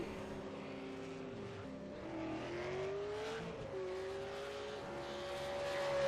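Race cars lap the Monza GP circuit in a racing video game, engines droning at a steady pitch with one rising whine as a car accelerates, heard continuously and without commentary.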